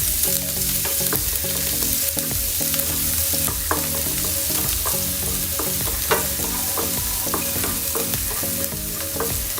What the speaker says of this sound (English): I will add more onion. Just make it saute nicely.